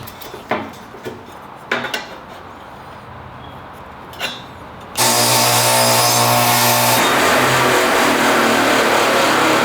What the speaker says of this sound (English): instead I'm gonna use this new metal blade I got for my table saw, and we'll give this a shot. See how it does cutting through some extruded aluminum